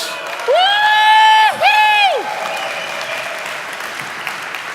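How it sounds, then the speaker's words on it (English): A crowd at a hackathon award show claps and cheers for the announced teams, broadband applause continuing throughout as a loud sweeping tone rises and falls twice over it before fading. "Please give all of these teams a huge round of applause"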